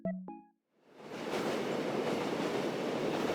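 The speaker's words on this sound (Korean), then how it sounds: "출퇴근길 지하철?" A commuter subway train, a short tonal chime at the start followed by a swelling, steady rumble and rattle of the carriages as the train gets under way.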